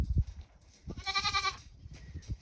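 Goats on a farm, with one loud, wavering bleat in the middle, set between dull thumps and quieter rustling nearby.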